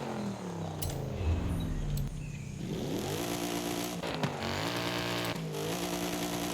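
A 6.2-litre V8 with an upgraded exhaust revs in Forza Horizon 5, a steady buzzy engine note climbing and falling through several rises, loud and continuous with no talk over it.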